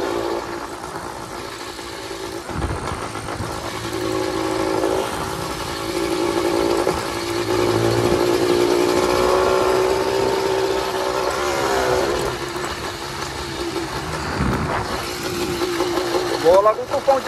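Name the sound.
100cc motorized bicycle engine running while riding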